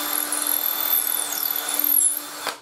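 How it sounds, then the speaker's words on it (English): A power drill bores a pilot hole in wood for a bass guitar build, a steady whining hum with grinding bit noise that ends in a brief clunk as the bit breaks through. "hold this against your body, against the force that is being applied by the drill bit, and there it goes"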